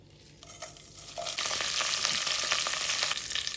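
Fennel seeds, curry leaves and dried Kashmiri chillies dropped into hot oil for a chicken roast, the frying swelling within a second into a loud, sustained crackling sizzle with a few stirring scrapes.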